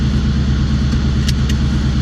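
A loud Ford Mustang engine idles with a deep, steady rumble, close and constant throughout.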